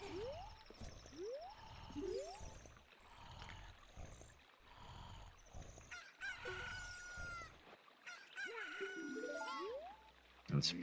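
Video game chickens from an Ocarina of Time Randomizer cluck and crow in a run of repeated rising squawks, followed by a denser flurry of calls over a steady background of game sound, with no talking.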